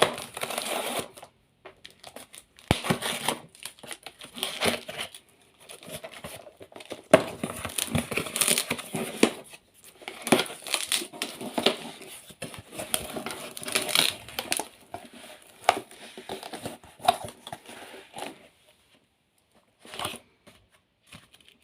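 A Farmasi cosmetics parcel is opened by hand: bursts of crinkling plastic and cardboard packaging, rustling and crackling in uneven spurts with short pauses, close and fairly loud.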